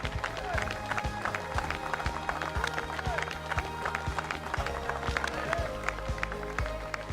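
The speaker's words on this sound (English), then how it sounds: "So one more round of applause." A crowd at a kayak bass fishing tournament awards in La Crosse applauds in sustained, dense clapping with a voice over it.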